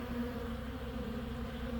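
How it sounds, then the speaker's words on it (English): A soft, steady buzzing drone of insects, like bees in flight, hums continuously at low volume with no voices. "Just now warming up enough for the bees to fly."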